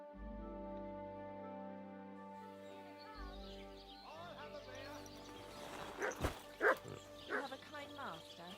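A dog barks several times in a video game, the barks growing louder toward the end, while a steady musical drone and tones play beneath.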